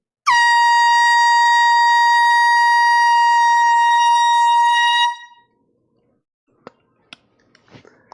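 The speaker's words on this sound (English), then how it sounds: "And here comes the air horn." A single loud, sustained air horn blast lasting about five seconds, then it cuts off, followed by a few faint clicks and taps.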